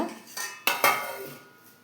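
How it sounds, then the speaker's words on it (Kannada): A plate is set down over a bowl with a couple of quick ceramic clanks, ringing briefly before fading into quiet. "ಒಂದು ತಟ್ಟೆ ಮುಚ್ಚಿಟ್ಬಿಡೋಣ"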